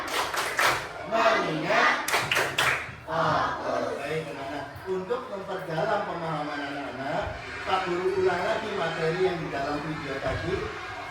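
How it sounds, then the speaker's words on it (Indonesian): Schoolchildren in a classroom perform a rhythmic clapping routine, sharp unison claps in short bursts followed by group chanting and a teacher's voice over the rest. "Oke, tepuk fokus."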